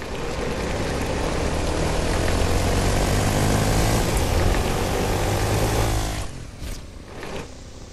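A propeller airplane drones loudly and steadily overhead in the game Fortnite, then fades abruptly near the end, leaving faint background noise.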